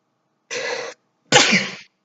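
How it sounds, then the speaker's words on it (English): Two short explosive bursts close to the microphone, a small sneeze followed by a louder, fuller one, with silence between. "Sneezed out of nowhere"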